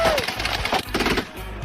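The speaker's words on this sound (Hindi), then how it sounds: "मैंने बस रैंडम पटाखे खरीदे थे" Firecrackers go off in rapid crackling bursts, a dense, busy stream of pops and snaps that continues throughout at fairly loud volume.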